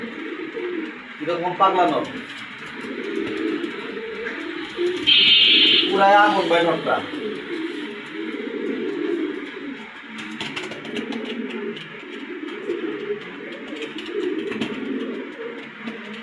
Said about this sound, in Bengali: নটটা ডাক দেখেন ভাই